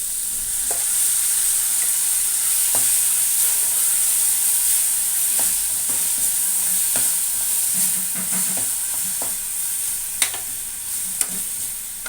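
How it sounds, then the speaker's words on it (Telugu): Ginger, garlic and onion paste fries in a pan for a drumstick masala curry, a steady loud sizzle with repeated scraping stirs all through, no voices. "అల్లం వెల్లుల్లి ఉల్లిపాయలు పచ్చివాసన పోయే వరకు వేయించాలి."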